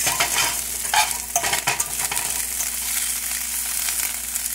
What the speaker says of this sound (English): get some air incorporated into that sauce. And give it a nice stir.